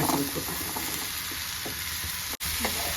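Cut drumstick pieces go into a hot sizzling tempering for Konkani-style drumstick palya, with steady crackling fry and scraping stirs in the pan, close and continuous.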